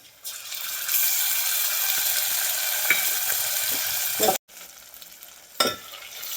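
Garlic-ginger paste fries with onion in a pan for a vegetarian pea keema, giving a loud, steady, close sizzle that cuts off abruptly, followed by a quieter stretch and a short burst of stirring.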